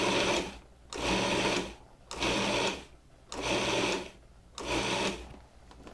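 A food processor pulses cold butter into a crumble topping for a walnut streusel blueberry dessert. Four loud, close, whirring bursts of about a second each are separated by short pauses.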